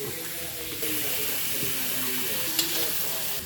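Hotdogs dropped into a hot pan with garlic and seasoning, frying with a soft continuous sizzle and occasional stirring scrapes during home New Year cooking, with background noise and faint voices.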